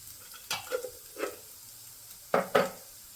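A spoon stirs salt and turmeric into masala for kadale usli in a pan, making several short scraping strokes close by, spaced unevenly, with near silence between them.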